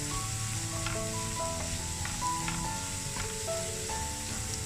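Turmeric powder fries in oil in a pan with a close, steady sizzle. Short stirring taps come through under a background music track, and there is no speech.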